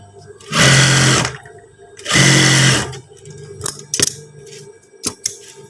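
A domestic sewing machine stitches trouser fabric in two loud, steady bursts of about a second each, followed by softer clicks and handling noises as the cloth is adjusted.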